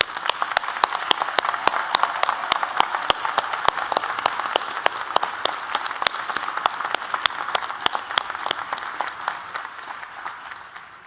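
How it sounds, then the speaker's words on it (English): An audience at a February 2023 graduation ceremony gives a sustained round of applause for the graduating students: dense, steady clapping from many hands that holds at an even level and thins slightly at the very end. "So can I please ask the audience to join me in applauding our students' success?"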